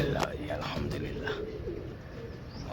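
Pigeons coo softly in low repeated calls with faint chirps, amid outdoor ambience and background voices.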